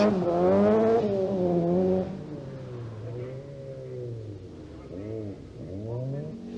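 A 2-litre Cosworth rally car driven hard through a tarmac stage, its loud engine revving high then dropping through gear changes, with a strong wavering note close by and a rising burst near the end.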